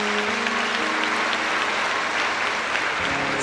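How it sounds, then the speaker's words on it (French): Audience at a computer science excellence graduation ceremony applauding the laureates, a dense, steady wash of clapping that fills the whole stretch at even loudness. "je vous demande d'applaudir chaudement les différents lauréats"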